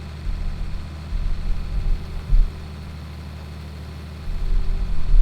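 A tractor engine in the video game Farming Simulator 19 drones steadily under load while seeding a field, a low, continuous hum with slight surges.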